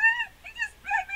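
Small dog, a Chihuahua, whimpering in three high, tonal whines with short gaps between them, fairly close and clear with no talk over it.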